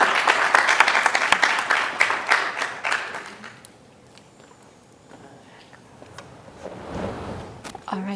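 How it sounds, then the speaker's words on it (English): Applause for patient and caregiver panelists at a brain tumor panel: a crowd claps steadily for about three seconds, then fades to quiet room noise with faint movement and a soft voice toward the end. "can we give them a round of applause for sharing today?"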